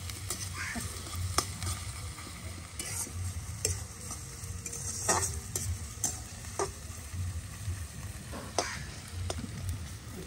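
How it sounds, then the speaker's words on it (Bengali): Onions frying to a deep red in a pan at a home picnic cookout, a soft constant sizzle under repeated scraping stirs and sharp clicks of a spatula against metal. "পেঁয়াজগুলো লাল লাল করে ভাজা হয়ে গেছে"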